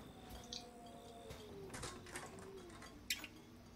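A bird coos and calls faintly inside the horror game Resident Evil 7, set against a low, steady ambient hum, with a few short scattered cries and one sharper call near the end.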